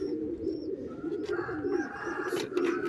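Soft, low cooing of tumbler pigeons rolls along steadily, with a few faint chirps from other birds and light background noise.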